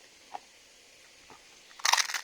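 A sturdy trick egg finally cracking and crushing, a couple of faint taps followed by a loud, close crunching burst at the end.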